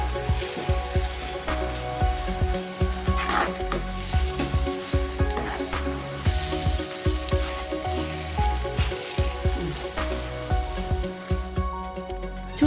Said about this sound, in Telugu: దీన్ని మొత్తం బంగాళదుంప అంతా కలిసేలాగా వాటితో కలుపుకోవాలి